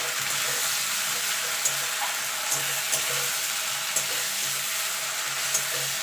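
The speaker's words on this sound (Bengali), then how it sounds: "এবার একটুখানি আদা রসুনের কাঁচা গন্ধটা যাওয়া পর্যন্ত এটাকে একটুখানি কষিয়ে নেব" Ginger-garlic paste frying with browned onions in a pan, a steady soft sizzle running throughout with occasional light clicks of stirring, no voices.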